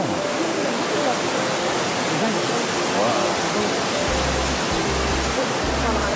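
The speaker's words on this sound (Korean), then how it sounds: "저기 이 물소리 들리세요 여러분?" Waterfall on Jeju island roaring steadily with broadband rushing water, loud and close throughout, while a voice briefly exclaims over it.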